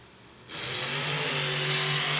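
Monster trucks Bad Company and Jester roar off the line at the start of a Monster Jam race inside The Dome at America's Center in St. Louis, a loud engine surge rising abruptly and holding as a sustained revving rumble.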